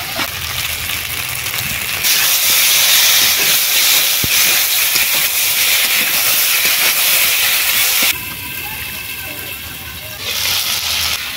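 Ginger, garlic, onion and potato fry in a pan as tomato goes in. A loud, close, continuous sizzle swells, drops briefly to a softer hiss, then rises again.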